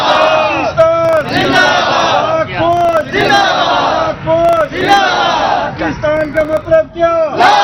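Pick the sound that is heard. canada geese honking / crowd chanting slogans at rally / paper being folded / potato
crowd chanting slogans at rally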